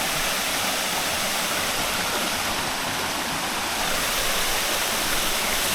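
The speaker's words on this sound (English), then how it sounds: "I can see, but also hear water." A waterfall or stream rushing close by on the Fleurieu Peninsula in Australia, a loud, dense, unbroken roar of falling water that holds steady throughout, with no voices.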